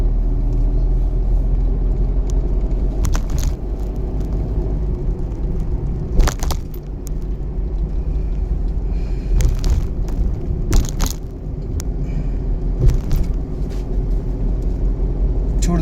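A car engine idles and rumbles steadily inside the vehicle during a driving lesson, with occasional clicks and knocks from the controls scattered over the low drone.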